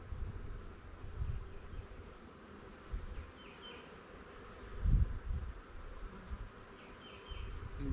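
Dense, steady buzzing of many honey bees swarming around an opened hive during a spring inspection and re-queening, a continuous low drone with louder low thumps and rustles up close, no talking.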